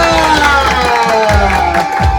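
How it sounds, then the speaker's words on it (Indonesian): Crowd cheering and applause at a wedding procession and celebration, loud and continuous, with shouts rising over a sustained noisy roar for a couple of seconds. "Boleh berikan tepuk tangan yang meriah untuk kita semuanya."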